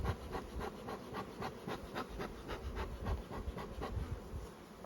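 A swarm of honeybees hums in a hive with a soft, continuous buzz pulsing in quick irregular bursts, close but faint, with no voices.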